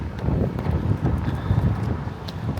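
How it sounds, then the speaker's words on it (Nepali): Strong wind blows on the hilltop of Mt. Amos in Tasmania, buffeting the microphone with continuous rumbling gusts that rise and fall, with no other clear sounds. "हावा चल्यो"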